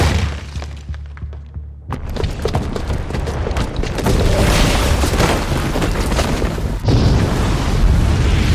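A bomb goes off in Horizon Zero Dawn Remastered, with a loud booming blast and shattering debris that rumble on for several seconds, and a second surge of destruction near the end.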